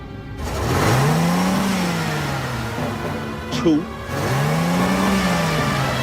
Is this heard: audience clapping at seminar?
no